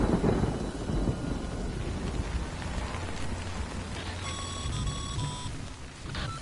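Steady heavy rain with rolling thunder in a stormy Death Stranding game scene, a dense continuous downpour filling the whole stretch, with a few thin electronic tones chiming briefly near the end.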